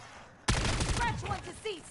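A sudden loud burst of rapid gunfire erupts in a PS5 shooter game as cover fire, followed by short radio-style voice chatter and electronic tones.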